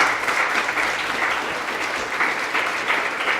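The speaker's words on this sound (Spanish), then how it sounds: "¿Por qué no les damos un aplauso a los hermanos que están?" A church congregation applauds young members who stood at the front, a dense, even roar of clapping filling the room from start to finish.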